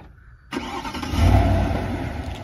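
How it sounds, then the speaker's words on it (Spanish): A Chevrolet Silverado V8 5.3 L 4x4 pickup starts remotely from its key fob: quiet hum, then an abrupt engine catch that swells into a loud rev before settling to a steady idle. "Y tiene una función para prender el carro a distancia."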